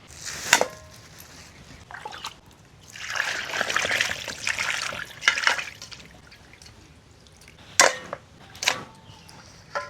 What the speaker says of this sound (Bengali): তো প্রথমে মাংসটাকে আমি জলে ধুয়ে নেব